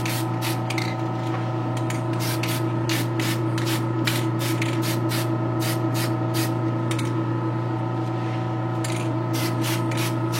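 Spray can laying down a coating in repeated short hissing bursts at close range, over a constant background hum.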